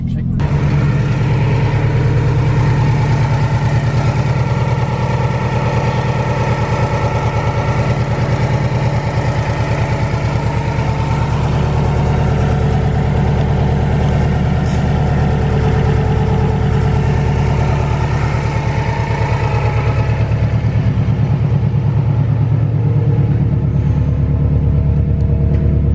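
Subaru EJ205 boxer engine idling after a valve cover job, a steady low rumble running the full length, close and fairly loud, with a voice speaking over it.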